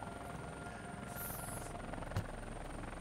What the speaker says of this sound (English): Oh, here's the chopper.